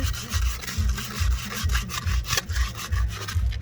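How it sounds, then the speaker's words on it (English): Surface rust is rubbed off a steel rim from a 1980 Jeep CJ7 in quick circular strokes, a close, scratchy abrasive rasp that pulses in a steady rhythm of about two strokes per second. "I have different areas that have a fair amount of surface rust, so I'm getting those off."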